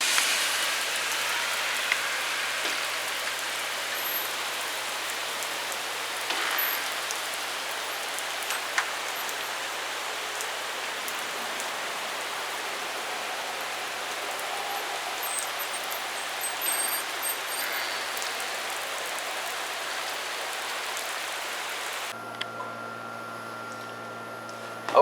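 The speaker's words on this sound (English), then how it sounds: "I'm going to show y'all the rain right quick." Steady rain falls outside, a continuous soft hiss of drops on surfaces with occasional louder patters, unbroken and moderately quiet throughout.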